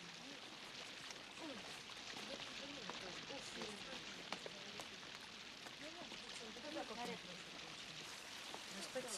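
Steady rain falling outdoors in a 1972 Soviet war film, a soft broadband patter that holds evenly throughout with occasional louder drops, faint and somewhat distant, with quiet voices speaking over it.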